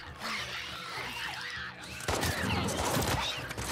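Gunfire in The Last of Us Part II: a burst of rapid shots starting about halfway through, loud and close over background game noise.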